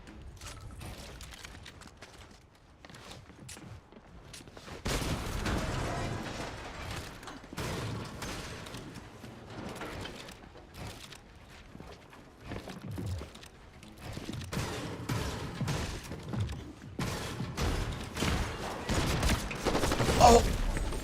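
Video-game shotgun fire and combat noise, a series of irregular heavy blasts and clatters that start quiet and build louder over the stretch, with someone talking over parts of it.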